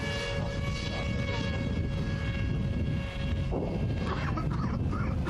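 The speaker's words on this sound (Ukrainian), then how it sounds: "коли орлан е, літає, у нього такий звук, як скутер без грушника" A reconnaissance drone flying overhead at the front near Klishchiivka drones on continuously, a steady buzz with a sustained whine over a rumbling low background, fairly loud and unbroken for several seconds.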